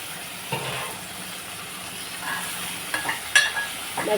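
Soft sizzle of tindora frying in a pan as tomatoes go in, with a few scraping stirs and light clinks of a spoon against the pan near the end.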